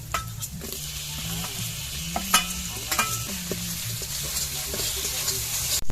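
Chopped tomato hits hot oil with garlic and ginger paste and sizzles steadily up close, while a spoon scrapes and stirs in irregular clanks against the pan, with no talking.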